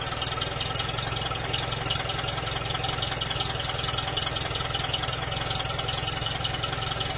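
A UAZ engine idles steadily with a throbbing exhaust note, a constant even rumble at close range with no revving and no voices.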